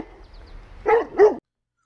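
Dogs barking at a rural garage, two quick close barks in succession after a moment of faint background, then silence.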